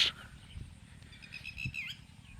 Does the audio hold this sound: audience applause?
no